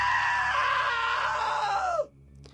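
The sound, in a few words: scream in the video game What Remains of Edith Finch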